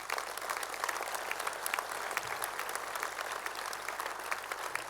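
An audience at a mayor's New Year speech applauds in a hall, with dense, even clapping that holds at a steady level for the full few seconds and no talk over it.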